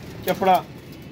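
Two short coos from a domestic flying pigeon among a keeper's flock, close by, with a soft hum of background noise around them.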